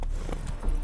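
Hooves of Roach, Geralt's horse in The Witcher 3, clip-clopping in a brief, steady rhythm at close range, with no talking.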